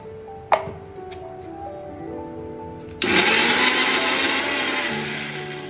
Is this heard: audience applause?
no